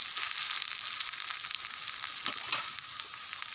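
Water is poured into a hot pan of sautéed taro cooked with shrimp, giving a loud, continuous hissing sizzle that stays close and even throughout, with no voices.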